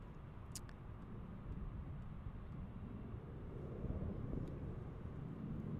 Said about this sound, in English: 737-800 taking off from American.